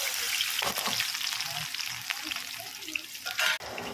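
Mustard seeds dropped into hot oil for poha, a strong close crackling sizzle throughout with brief spatters and a sharp clatter near the end.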